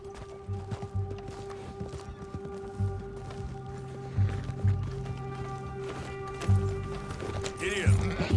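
Horse hooves pounding at a gallop in Red Dead Redemption 2, a steady clip-clop rhythm with occasional louder thuds, heard alongside game ambience and some talk.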